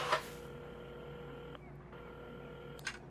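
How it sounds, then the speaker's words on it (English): Telephone dialing in the video game Assemble with Care, with short electronic tones at the start and near the end around steady tonal beeps, heard faintly and alone. "while at the counter, Carmen had started dialing the phone"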